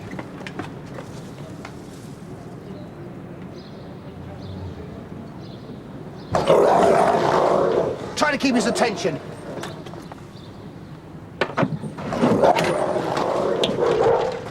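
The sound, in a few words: dog barking and growling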